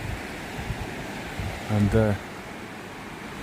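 Waves crash over sand banks, making a steady, distant rush of white water that fills the background, broken briefly by a short spoken word.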